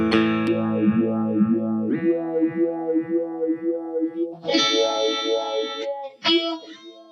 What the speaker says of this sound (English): That is the pitchfork going into the Walrus Audio Lillian pedal.